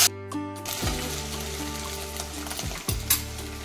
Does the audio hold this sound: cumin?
yes